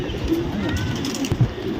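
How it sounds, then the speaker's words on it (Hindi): A pigeon kept by a pigeon fancier coos softly in a short low burbling phrase, close and fairly quiet, with no talk over it. "और आपको छोड़ के भी दिखाएंगे कबूतर को"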